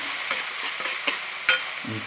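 Masala for a Kerala-style chicken curry is stirred in a hot pan, a soft continuous sizzle broken by several sharp scraping strokes of the spoon, close up and with no talking.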